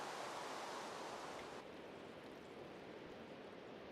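Water flows steadily in a Minecraft-style mining game, a close, even rushing wash that drops slightly in brightness partway through.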